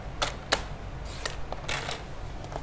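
A paper trimmer blade slides along its track, cutting cardstock for a snow globe shaker card: a handful of short, crisp clicks and scraping ticks, close but quiet, irregularly spaced.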